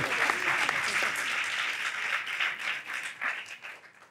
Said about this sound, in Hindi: अंकल जी के लिए तालियां बजाए